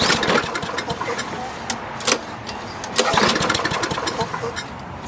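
Toro Recycler lawn mower engine cranking and catching, with sputtering, uneven bursts of combustion and rattling as it struggles to start, loud and close throughout.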